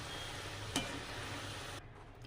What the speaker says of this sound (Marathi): तेलामध्ये चांगली फ्राय करून घ्यायचं असं हलवायचं असतं